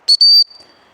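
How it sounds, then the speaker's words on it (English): A shrill dog recall whistle blown outdoors on a walk, a short first toot then a longer sustained blast, loud and close, with nobody speaking. "She's actually stopped on the whistle."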